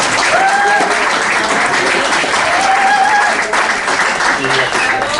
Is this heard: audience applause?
yes